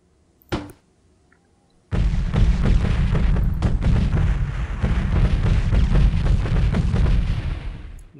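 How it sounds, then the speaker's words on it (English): Grenade launcher rounds blast in Delta Force 2 during a boot camp assault mission: one sharp boom, a short pause, then a long, loud, continuous barrage of explosions that fills the rest of the clip. "Here, grenade launcher."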